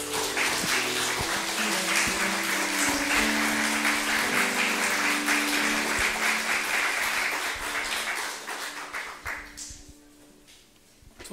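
A church congregation at Sunday worship claps steadily for several seconds, full and sustained, then the applause thins out and fades toward the end.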